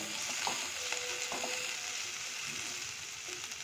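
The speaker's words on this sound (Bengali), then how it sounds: "এবার এটাকে ভালো করে একটু নেড়ে নেব" Chopped green chillies and yellow bell pepper are stir-fried in a pan for bread crumbs upma, giving a steady close sizzle with light scraping of the stirring spoon throughout.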